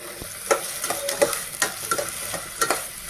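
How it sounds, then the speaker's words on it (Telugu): Onions frying in hot oil in a pan, a steady soft sizzle with scattered crackles and brief stirring scrapes, close and moderately quiet. "ఉల్లిపాయలు వేయించుకుందామండి"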